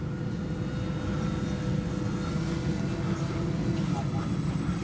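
An RC P-38 twin-engine model airplane comes in to land, its motors making a steady, broad droning whine that stays loud and even throughout.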